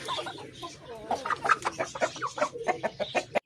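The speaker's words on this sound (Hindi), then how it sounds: "ये बड़े बड़े मुर्गे हैं, इनको यहाँ बांधा गया है" Several roosters cluck and squawk in quick, irregular calls, fairly close, with some overlapping chatter throughout.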